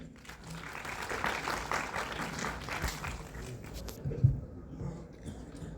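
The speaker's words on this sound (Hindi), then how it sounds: "जोरदार तालियां" Audience at Bharat Mandapam applauding a performer's introduction, a continuous wash of clapping at moderate level that thins out near the end, with a single sharp thump partway through.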